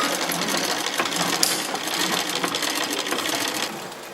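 A sewing machine stitches fabric in a factory setting, a fast, steady mechanical whir running close and loud throughout with no talking, easing slightly at the end.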